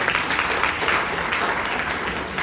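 An audience at a marriage seminar claps hands together in a steady, dense round of applause, fairly close and continuous throughout.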